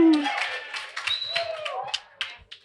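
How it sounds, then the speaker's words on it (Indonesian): A small group clapping at a music and design talk session: a handful of scattered, crisp claps, with a voice speaking between them. "Tepuk tangan buat kalian semua."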